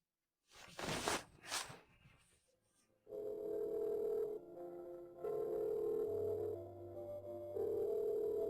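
An outgoing phone call goes unanswered. After some brief rustling, a ringback tone plays in repeated long bursts separated by short gaps.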